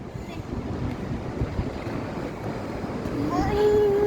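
Strong wind blows in Abu Dhabi, a steady rushing buffet against the microphone that grows slightly louder near the end, with a faint tonal sound rising briefly.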